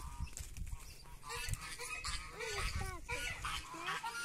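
Farmyard geese honk repeatedly in overlapping bursts at close range, with other fowl calling nearby and a person speaking briefly.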